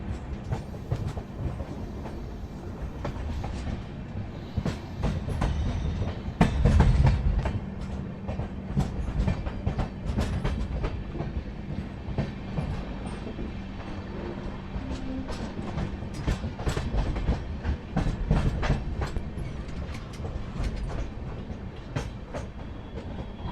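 Steady rumble and rhythmic clickety-clack of the 15027 Sambalpur–Gorakhpur Maurya Express rolling over rails, heard from onboard a coach, continuous and fairly loud with repeated wheel-joint clicks throughout.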